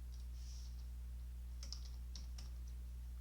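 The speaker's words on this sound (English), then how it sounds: "let's just see if we type in Bob" Soft clicks of typing on a computer keyboard come in a few short bursts over a steady low electrical hum, quiet and close with no voices.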